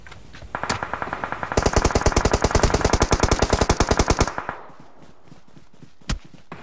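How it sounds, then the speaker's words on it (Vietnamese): Sustained automatic rifle fire from a Scar L in a PUBG Mobile ranked squad match, a fast, loud burst of rapid evenly spaced shots lasting about three seconds, followed by quieter background and one sharp lone shot near the end. "Nó bắn xuống lưng kìa."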